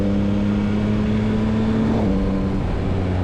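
A 2022 Yamaha MT-09 triple-cylinder naked motorcycle pulls hard with a steady, loud engine drone and a pitch that climbs, dips at a shift around the middle, then rises again, with no talking.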